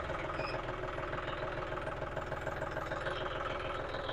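Tractor engine running in reverse gear, a steady rhythmic low diesel chug with dense harmonic rumble, close and continuous throughout.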